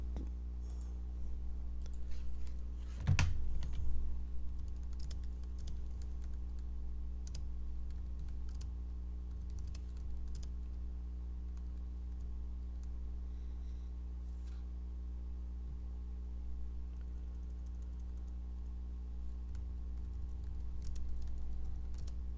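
Typing on a computer keyboard makes soft, scattered clicks and taps over a faint steady hum, with one sharper knock early on.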